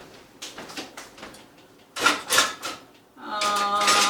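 Kitchen utensils clattering and rattling as someone rummages through them for a spatula, a burst of metallic clinks and scraping with a drawer-like slide at the end, close and fairly loud.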